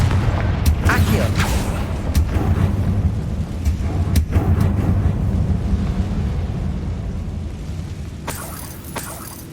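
A Confringo fire spell in Hogwarts Legacy bursts with a few sharp, booming blasts over a steady low rumble of game ambience, with another crackling burst near the end.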